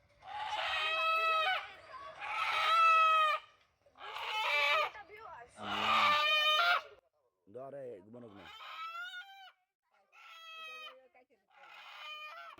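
Roosters and hens at a rural household in Narail, Bangladesh, kept for slaughter, give several loud, drawn-out crows and a few low, quick clucks, spaced across the stretch with short quiet gaps.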